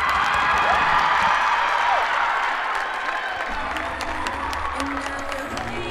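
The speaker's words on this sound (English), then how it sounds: "Teammates really cheering her on." Teammates at a women's college gymnastics regional meet in Tuscaloosa clap and cheer for a gymnast, a loud, dense swell of applause and whoops that stays close and sustained before easing slightly toward the end.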